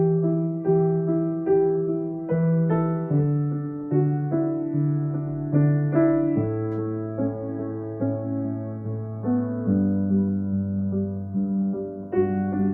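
Solo piano plays a piece from the Mid90s soundtrack, a slow, gentle sequence of repeated chords and sustained bass notes at full speed, clear and close with no talking.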